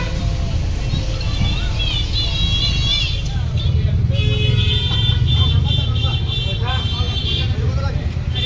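Inside a moving bus on a rainy winter day, a steady low engine rumble with road noise, a horn toot and high whining tones, while a person talks over it.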